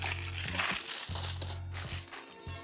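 Plastic bag crinkling continuously while a Fujifilm X100VI camera is unboxed, close and rustly, over a steady low electrical hum.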